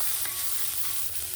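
Mustard seeds and two chillies tempering in hot oil, a short, fairly quiet steady sizzle with faint stirring, no voices.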